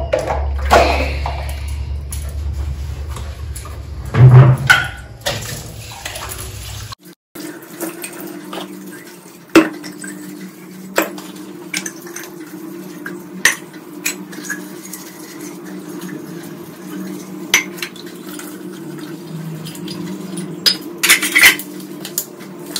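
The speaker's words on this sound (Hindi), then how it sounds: "मेरे को कितने सारे बर्तन हैं धोने को, तो जल्दी जल्दी मैं इनको सबको साफ कर देती हूँ एकदम" Dishes, pots and utensils are washed by hand in a sink, with running tap water, clinking metal and clattering cookware in close, irregular bursts throughout.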